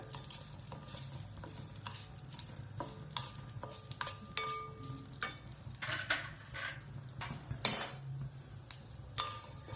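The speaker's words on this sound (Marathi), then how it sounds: "याच्यात टाकूया लसूण जरा, लसणाच्या 4-5 पाकळ्या याच्यातच भाजून घ्यायच्या चांगल्या, अशा खमंग भाजायच्या जरा" Four or five garlic cloves with cumin roasting in a pan for curry leaf chutney, stirred with a utensil, giving quiet irregular scrapes and clinks over a soft sizzle, with one sharper knock near the end and no speech.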